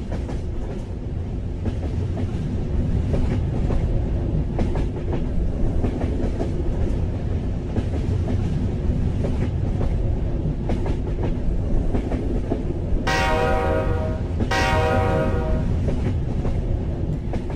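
A train rolls steadily along the rails with a constant loud rumble and rattle, and a horn-like tone sounds twice near the end.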